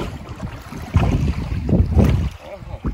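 A small fishing boat sets off on the sea in Norway, with wind buffeting the microphone and water sloshing and slapping against the hull in uneven surges, close and fairly loud.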